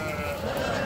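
A sheep gives a single short, close bleat at a suburban Bishkek livestock market where sheep and goats are being sold.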